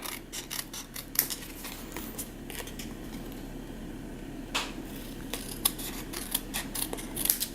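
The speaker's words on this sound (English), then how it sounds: "So I'm just going to go in here and cut off this extra." Paper scissors snip off the extra edge of a stamped card panel, a series of close, crisp cuts at an uneven pace over quiet room noise, with no talking.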